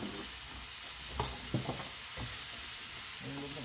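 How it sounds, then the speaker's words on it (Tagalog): Squash sautéing in a pan is stirred with a utensil, producing a continuous gentle sizzle broken by a few distinct scraping strokes; no speech is heard. "Haluin lang muna natin guys ang ating kalabasa."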